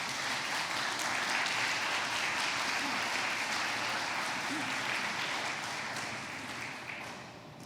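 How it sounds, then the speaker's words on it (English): A crowd applauds the mayor at a last-day-of-school celebration, a thick continuous wash of clapping from a large audience that holds steady and then begins to taper toward the end. "Let's applaud our mayor, everybody"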